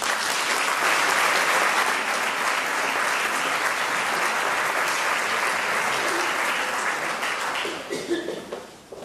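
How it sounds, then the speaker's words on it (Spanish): An audience at an audiovisual awards ceremony in Torrevieja gives a strong round of applause welcoming the town's mayor, continuous close clapping that thins out near the end into a few scattered claps. "Recibimos con un fuerte aplauso al alcalde de Torrevieja, José Manuel Dolón García."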